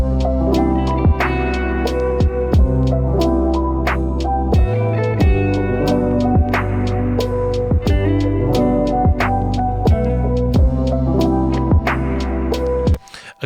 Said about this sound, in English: Here's with the reverb.